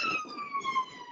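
A wailing emergency siren, likely a police car, passes steadily through the whole moment, its rising and falling tones clear and moderately loud against faint background hum.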